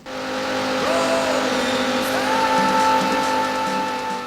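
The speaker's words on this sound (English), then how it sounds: "Gentlemen, start your engines." Race car engines idle and rev in the Sega Saturn racing game Daytona USA, a steady synthetic drone with rising pitch sweeps as the motors build, loud and continuous throughout.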